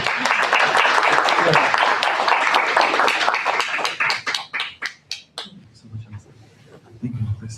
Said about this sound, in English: And big applause.